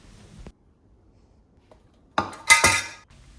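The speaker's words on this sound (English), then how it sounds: "Arrange the meat evenly around the baking pan." Pork belly slices in tonkatsu sauce are placed in a metal Philips air fryer baking pan: a faint tap, then a quiet stretch, then a close cluster of clattering, clinking metal pan sounds.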